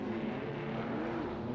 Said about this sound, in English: that would be a car going around